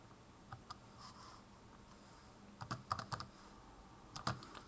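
Numbers are tapped into a calculator as scattered, faint, close key clicks: a few isolated presses, then a quick cluster, then a last pair of taps, in an otherwise quiet room.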